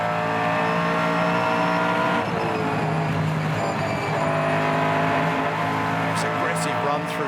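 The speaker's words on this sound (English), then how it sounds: "It doesn't sound right at all. It's got a header. Yeah. It's got one cylinder out by the sound" Supercars race car engine running rough with one cylinder out, a loud sustained buzzing drone with shifting harmonics as the car laps, heard under race commentary.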